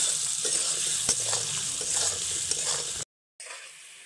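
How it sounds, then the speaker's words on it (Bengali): Potato pieces seasoned with turmeric and salt frying in a kadai; a close, continuous sizzle with stirring scrapes, cut by a brief silent gap near the end. "আলুগুলোকে লালচে লালচে কালার করে ভেজে নেব"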